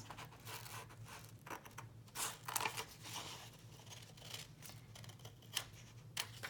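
Scissors snip through paper while a craft tag is cut out, giving several close, crisp cuts scattered over a steady low background hum, with no talking.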